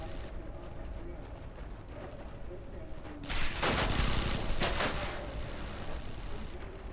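Bursts of gunfire in the sci-fi shooter Interstellar Marines break out about halfway through, loud and sustained, over a steady game background with a voice talking.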